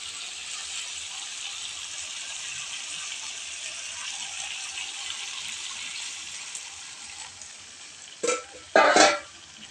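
A little water goes into a sour-spicy shrimp curry in the pan: a steady soft simmering hiss, then two short, loud sizzling bursts near the end.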